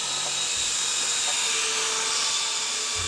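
A Silverlit Picooz Tandem toy helicopter flies close by with a continuous high-pitched electric whine from its small rotors, steady and loud without pause.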